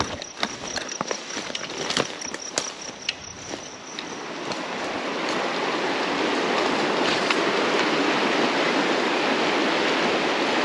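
A fishable spring creek in eastern Idaho rushes steadily nearby, starting with scattered clicks and knocks and then settling into a loud continuous broadband flow.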